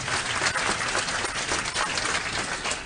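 A dense, steady wash of audience applause at a clean energy innovation ministerial event carries unbroken for about three seconds, close and loud with no voices over it.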